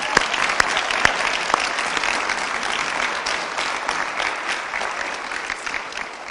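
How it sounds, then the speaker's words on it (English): Applause from an audience at a celebration for a national champion college cross country team, steady dense clapping with a few sharp close claps at the start, continuing at an even level for several seconds. "Let's give him a round of applause."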